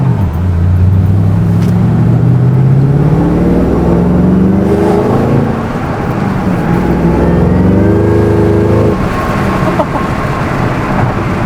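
A 2014 Shelby GT500 fitted with a large body kit accelerates hard, its loud engine note climbing in pitch through rising revs and shifting at one point, heard close and steady from start to end.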